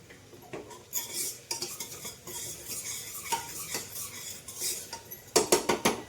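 Chopped onion being stirred and roasted in a pan for a chicken curry, with a metal utensil clinking and scraping against the pan in uneven bursts over a faint sizzle.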